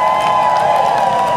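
Festival crowd at the 4 Peaks Music Festival applauding and cheering for a band, a dense continuous wash of clapping and shouts with a steady ringing tone underneath, loud throughout.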